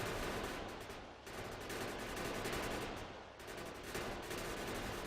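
Gun turrets in Factorio rattle off continuous automatic fire at worms, a dense, steady mechanical barrage with brief lulls, no voices.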